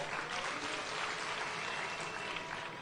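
Crowd applause at a political rally in Kisumu, a dense, steady wash of clapping from many hands that holds at an even level throughout, with no clear voices over it.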